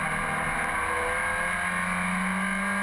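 An MG TC Special vintage race car engine drones steadily at a vintage MG feature race at Grattan Raceway, a continuous loud hum that holds one pitch with a slight rise.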